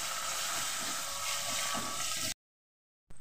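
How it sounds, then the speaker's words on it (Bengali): Chopped onion added to hot oil with crushed garlic in a home kitchen, giving a loud, steady broadband sizzle that runs close for about two seconds, then cuts to silence before briefly resuming. "এবার পেঁয়াজ দিয়ে দিলাম।"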